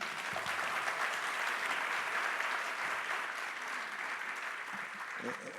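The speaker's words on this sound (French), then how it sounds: "Merci Myrtho, on peut l'applaudir" Audience applause fills a plenary session at a French hydroelectricity conference, a steady dense patter of many hands clapping at moderate level throughout, with a faint voice briefly under it.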